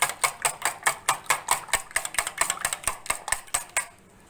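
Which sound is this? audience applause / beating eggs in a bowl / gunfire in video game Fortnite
beating eggs in a bowl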